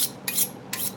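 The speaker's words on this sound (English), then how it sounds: "As always, sharpen the knife." A kitchen knife being sharpened gives two or three quick, hissing metallic scrapes, close and fairly soft, with short gaps between the strokes.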